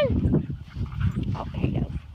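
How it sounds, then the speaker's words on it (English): A dog gives a few short, muffled barks and whines close by, with a person speaking over it. "No barking."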